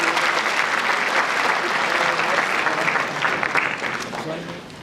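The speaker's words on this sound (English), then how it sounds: "Let's give them a round of applause," A congregation gives the choir a loud, dense round of applause at a memorial for a bishop in the diocese of Witbank, South Africa, fading slightly toward the end, with faint voices underneath.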